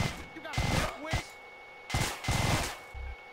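MP5 and minigun gunfire in GTA San Andreas comes in several loud rapid bursts separated by short gaps, with talk mixed in.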